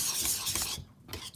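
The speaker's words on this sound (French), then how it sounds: "Le secret, c'est de tourner." Flan batter stirred in a saucepan, a brief close scraping swirl of a utensil against the pan bottom with a short pause before the stirring resumes.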